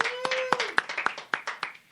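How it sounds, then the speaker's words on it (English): A small live audience at a comedy roast gives scattered, uneven applause made of separate sharp claps, with a voice speaking over them. "clap for this douchebag"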